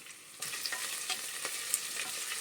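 Potato pieces with onions frying in a steel pot, a steady broadband sizzle that jumps louder partway through, with occasional stirring scrapes and pops.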